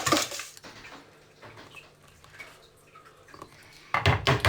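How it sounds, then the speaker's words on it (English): Palatschinken batter being stirred in a bowl after more flour is added, with scraping and clinking bursts at the start and again at the end around a quieter stretch. "Add some more flour. And then again, stir it up."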